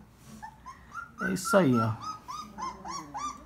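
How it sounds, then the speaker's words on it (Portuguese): A young puppy whimpers and yips in short, high, wavering cries, close and repeated, while someone talks over it. "olha que cachorro lindo"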